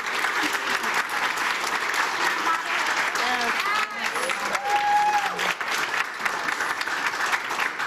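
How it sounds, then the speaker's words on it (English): Audience at a Black maternal health panel event giving the panelists a round of applause, sustained dense clapping for several seconds with cheers and voices mixed in. "If you guys can give them a round of applause"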